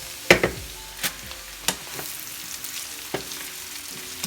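Diced potatoes frying in a pan for chicken hash, stirred with a few sharp scraping clacks over a low steady sizzle, close and fairly quiet with no talking.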